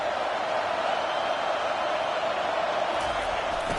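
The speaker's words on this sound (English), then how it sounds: "It is getting loud as this crowd tries to help its defense." A packed stadium crowd in the College Football 25 video game roars in a steady, loud wall of noise that barely rises or falls over a few seconds.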